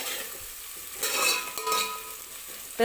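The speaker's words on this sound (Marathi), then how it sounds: "आता याच्यामध्ये मी खडे मसाले टाकून घेते." Whole spices sizzle and crackle in hot oil in a pan for veg pulao as they are stirred, with a steady close frying hiss and brief bursts of louder spattering, no voices.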